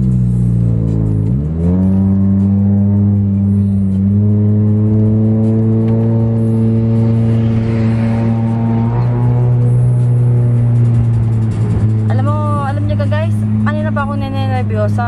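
Cars overtaking on a road, heard as a loud, sustained engine drone that rises and holds steady as vehicles pass, with people talking over it.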